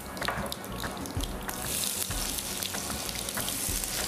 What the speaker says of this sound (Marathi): चला, फोडणी तडतडली.